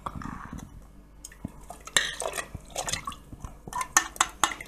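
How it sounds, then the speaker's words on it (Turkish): Lemon and orange mixture being poured into water for a whole-lemon lemonade, heard as close splashing and dripping liquid with clinks of a container or spoon against glass in short bursts. "Şimdi bunu suyumuzun içerisine aktarıyoruz."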